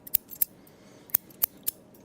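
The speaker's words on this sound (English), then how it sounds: "I hope you enjoyed this scissors request." Scissors snipping through paper for a cutout in a quiet ASMR setting, five crisp close snips at uneven intervals with soft paper rustle between, no talking.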